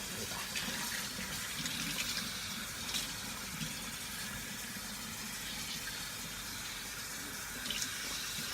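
Running water from a tap or shower splashing steadily as shampoo is rinsed out of hair, a continuous close gushing wash with faint splatters, no talking.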